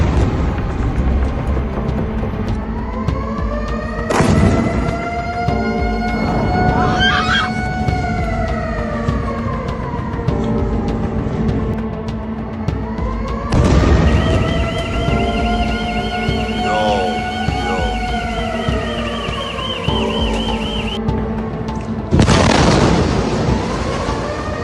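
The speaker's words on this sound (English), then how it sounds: "It begins with a siren, a single sound, shrill, piercing, and then the sky falls." Air raid siren wailing in long rising and falling cycles during a missile attack on Tehran and Tel Aviv, broken by several loud explosion blasts, with no voices.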